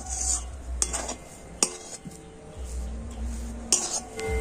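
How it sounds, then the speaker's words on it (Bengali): Semolina dough for kalojam sweets is stirred continuously in a pan: soft scraping with a few sharp clinks of the utensil against the metal, close and fairly quiet over a low hum. "এইভাবে কন্টিনিউ নাড়াচাড়া করতে হতে ডোটা কতটা শক্ত হয়ে যাচ্ছে"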